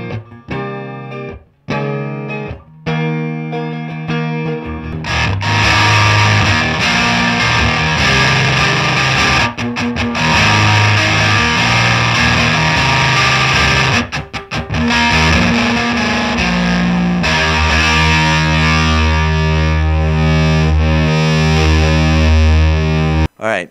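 An electric guitar runs through a Dwarfcraft Devices Reese Lightning effects pedal, starting with sparse stabbed notes, then swelling into loud, thick, fuzzy distorted chords with abrupt cutouts and tonal shifts as settings change, no talking.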